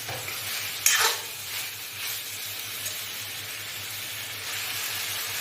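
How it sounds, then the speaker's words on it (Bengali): Fried pointed gourd is stir-fried in a pan with a cottage cheese curry base, making a continuous close sizzle with one sharp scrape of stirring near the start and softer stirring afterward. "ভেজে রাখা পটলগুলো এবার আমি একটু দিয়ে দেব এর সাথে ভালো করে কষিয়ে নেব"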